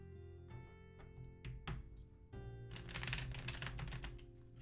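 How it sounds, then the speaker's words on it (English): A tarot card deck is shuffled and tapped against a table, sharp clacks and riffling bursts building into a dense flurry of close, crisp card noise over a faint steady hum. "Some card shuffling ASMR."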